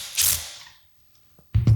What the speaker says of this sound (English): The clutch just slips when the screw's tight.